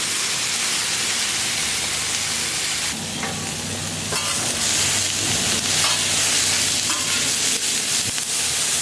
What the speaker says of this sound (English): Use the moisture off the vegetables to pull them bits loose off the grill.